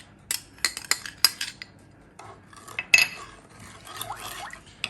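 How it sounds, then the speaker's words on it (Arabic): A utensil stirs strawberry tart cream ingredients in a bowl, giving a run of sharp, close metallic clinks and scrapes in uneven bursts, then softer, steadier stirring with a slight wet swish. "غادي نخلط كلشي"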